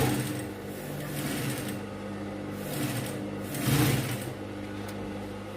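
Sewing machine stitching a box pleat at the dart of a gown runs in short bursts of rapid mechanical whirring and clatter, close and steady, with no talk.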